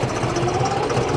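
A John Deere tractor engine runs steadily in a farm field, a continuous close mechanical drone with an even low throb and no voices.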